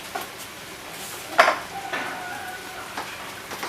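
Steady sizzling of a Hmong egg roll frying in hot oil, with a brief louder crackle and a few soft clinks of utensils; no talking.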